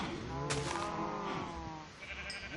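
Sheep in a farm pen in the Minecraft video game bleat in a long, wavering tone, with another faint bleat at the end and steady background noise.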